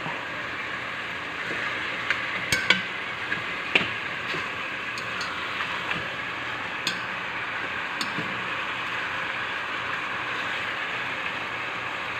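Biryani ingredients sautéing in a pan, a soft continuous sizzle with scattered light taps and clicks of a utensil, fairly quiet and without talk.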